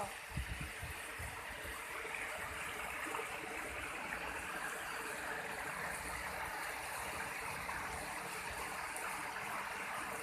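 A small river flows steadily nearby, a continuous broadband rushing and babbling of water, fairly close and even, with no voices over it.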